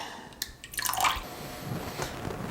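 Water being poured and dumped out of a tub while panning black sand for gold, with splashing and dripping bursts that build to a short gush and then trail off into scattered drips nearby.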